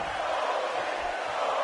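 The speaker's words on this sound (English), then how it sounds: "Kofi chant from the crowd." A video game wrestling arena crowd in WWE 2K18 chanting for Kofi, a steady, dense roar of massed voices filling the space without a break, fairly distant and even.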